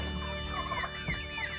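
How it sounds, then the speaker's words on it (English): Turkeys on a farm at night, near a trashed feeder, give warbling gobbles and clucks close by over a steady low background hum, with no talking. "turkey."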